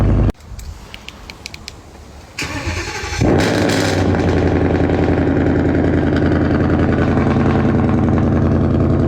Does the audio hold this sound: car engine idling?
yes